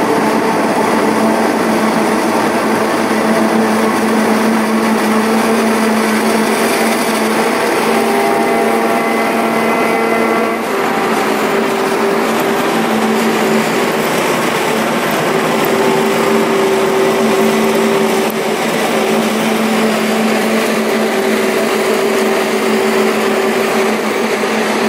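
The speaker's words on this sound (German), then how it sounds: "Der zweite Trecker war auch schon gerade hier, der ist jetzt von der anderen Seite reingefahren" A tractor working a maize field during harvest, a steady loud engine drone with a whining high tone that holds constant throughout, no voices.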